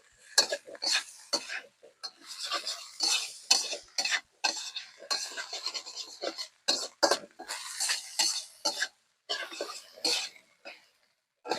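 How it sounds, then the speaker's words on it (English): Chinese sausage fried rice sizzles and crackles as it is stir-fried in a wok, with bursts of hissing and scraping tosses coming in uneven waves, close and fairly loud, and no talking over it. "When you can hear the rice sizzling, the vegetables caramelizing, you know you got beautiful wok hei, and you know your stir fry is good."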